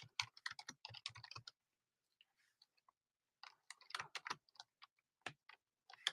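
Bursts of rapid clicking from typing on a computer keyboard, close and fairly crisp, in two runs separated by a near-silent pause.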